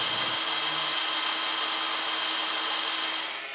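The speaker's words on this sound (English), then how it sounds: "I can drill the holes." Power drill boring holes while replacing soffits at a cottage, run off a portable inverter: a steady high-pitched motor whine held alone and unbroken, tapering off slightly at the end.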